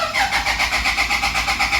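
A Toyota Fortuner with a low-power fault cranks steadily, the starter churning in a fast, even rhythm close by without catching.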